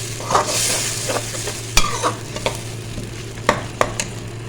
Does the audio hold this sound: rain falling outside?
no